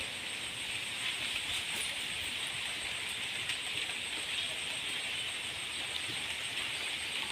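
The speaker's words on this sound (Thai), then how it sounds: "ฝนฝนตกมาแรงๆ ก็ถอยไปหาแม่ กลัวเสียงฝน" Heavy rain pours down steadily outdoors during a storm, a fairly quiet continuous hiss of drops on surfaces with no break and no voices.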